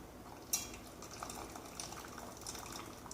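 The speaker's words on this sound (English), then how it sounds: "I'll strain this out." Brewed hemp tea strained through a strainer, a soft trickle of liquid with faint clinks of utensils, close and quiet.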